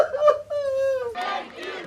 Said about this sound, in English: Cheers erupted in Hostage Square in Tel Aviv as crowds gathered to watch coverage of the hostages' return